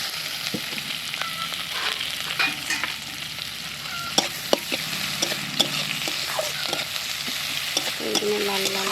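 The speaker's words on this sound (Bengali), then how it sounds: "এগুলো লাল লাল করে একটু ভেজে নিতে হবে পেঁয়াজটাকে" Onions fry in a pan with black cumin and bay leaves, a steady close sizzle broken by scraping, clattering stirs of a spatula at irregular intervals, with no talk.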